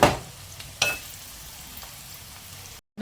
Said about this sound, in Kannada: ಸೊ ಅದರಲ್ಲೇ ಫ್ರೈ ಆಗುತ್ತೆ ಚೆನ್ನಾಗಿ ಇದನ್ನು ಫ್ರೈ ಮಾಡ್ಕೊಳ್ಳೋಣ